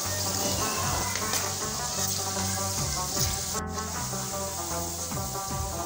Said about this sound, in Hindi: भिंडी को इसी तरह से फ्राई कर लेना है